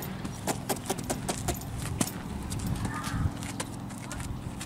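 A calm chestnut mare walks with a steady clip-clop of hooves, light metallic jingling of tack alongside, and voices talking softly in the background.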